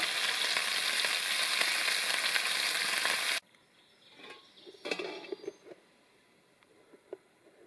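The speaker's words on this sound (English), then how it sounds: "Done some steak and eggs for breakfast this morning." Steak and eggs frying in a pan on an off-grid log cabin stove, a loud steady sizzle for about three seconds before cutting off, followed by quieter scattered clinks and small kitchen sounds.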